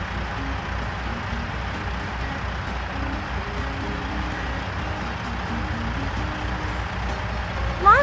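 A garbage truck idles and rumbles nearby with a constant low engine drone, faint intermittent reversing beeps riding on top, and a brief louder bump near the end.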